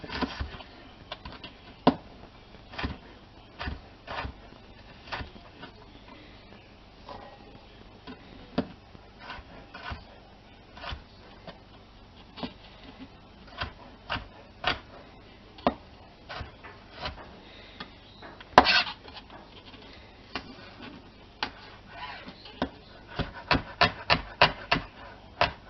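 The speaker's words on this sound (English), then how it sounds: "that's it for the chop chop" A knife chops food on a board while burgers and beans are prepared, giving a steady run of sharp, close taps with short pauses and a quick burst near the end.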